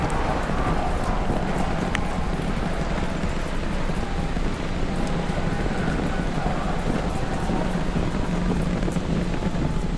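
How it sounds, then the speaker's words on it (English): Launch rumble from a SpaceX Starship Super Heavy booster with all 33 Raptor engines firing during its third orbital test flight: a continuous, dense, roaring low rumble with wind-buffeted crackle, steady and loud for the whole stretch, no voices. "30 seconds into flight, we are feeling the rumble."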